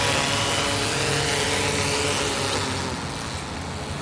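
A Mariner quadcopter lands automatically in high wind, its rotors whirring loud and steady close by under rushing wind noise, easing off slightly toward the end, with no speech.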